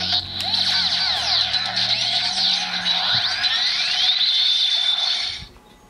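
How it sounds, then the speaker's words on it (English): A Power Rangers Beast Morphers DX Morphin Brace toy plays its electronic morphing sound, a loud, steady synthesized whoosh with sweeping tones lasting about five seconds before cutting off abruptly. "I love that this morphing time sound"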